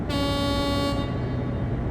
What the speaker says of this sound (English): And then the air horn.